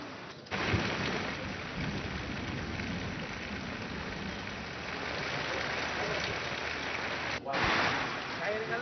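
Heavy monsoon downpour in Risod taluka, Washim, pours in a dense, steady roar, with rolling thunder woven through and a speaking voice faintly underneath.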